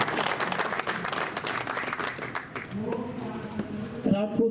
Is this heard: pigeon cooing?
no